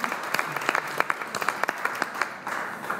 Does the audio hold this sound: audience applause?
yes